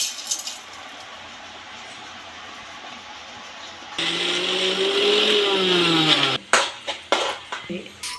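A kitchen mixer grinder blends green chillies, sesame seeds and garlic for a village-style gongura chutney: after a quiet room hum, the motor whirs loudly for about two seconds, then stops, followed by a few clattering knocks.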